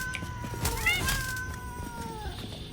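Cats meowing in the video game Satisfactory, replacing spiders in arachnophobia mode; several drawn-out, rising and falling meows at moderate distance over a soft game background.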